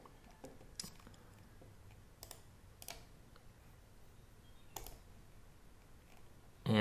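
Soft, scattered clicks of typing on a computer keyboard, faint and irregular with a few sharper keystrokes, over a quiet background and a louder thump at the very end.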